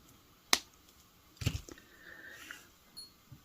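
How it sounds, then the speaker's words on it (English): Wire cutters snip off excess beading wire: a sharp click, then a second louder snip with some faint fiddling after, quiet and close. "I'm going to take my cutters, cut off my extra wire."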